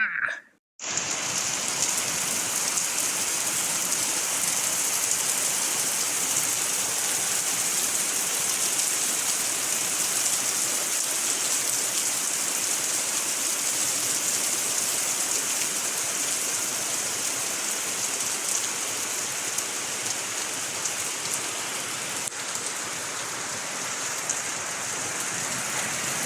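Steady rain pours down near Bognanco in the Italian mountains, a dense, even hiss of falling water that runs unbroken and loud throughout after a brief quiet start.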